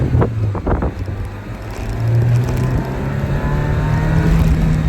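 A 1995 MGF Roadster's engine drones steadily from inside the car while driving, a low throaty hum that grows louder and fuller as it pulls, with wind rushing past underneath.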